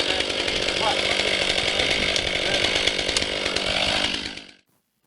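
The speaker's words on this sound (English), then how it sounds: "you could try out a chainsaw. I chose the 500i" A Stihl 500i chainsaw runs at a steady high rev for about four and a half seconds, loud and close with a buzzing drone, then cuts out abruptly into silence.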